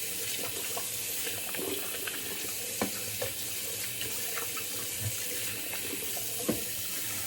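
Water runs steadily from a tap into a sink while rinsing away stubble-filled shaving water, a constant splashing rush with occasional small clunks and knocks.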